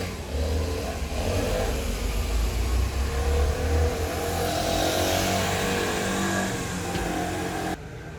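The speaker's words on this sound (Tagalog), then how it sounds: "kadadaan lang ng Ariba na bus" An Arriva bus passes along a street in Croatia, its engine a loud, steady roar that holds for several seconds before cutting off abruptly near the end, with no talking.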